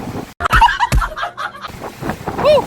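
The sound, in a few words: strong wind during storm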